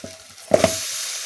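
Fish pieces drop into hot oily masala in a pan for a fish curry, setting off a sudden burst of sizzling and frying that keeps hissing steadily afterward.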